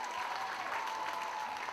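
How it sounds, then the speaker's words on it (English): An audience at a school performance contest applauds Ashhurst School in a short, faint burst of crowd clapping that holds at an even level, with a thin steady tone beneath it. "Let's give a massive round of applause for Ashhurst School."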